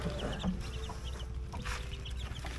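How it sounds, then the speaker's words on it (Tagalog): Young chicks peep and chirp in short scattered bursts over a steady low rumble of background noise, with no talking. "Nakakatuwa yung aming mga sisiw, guys."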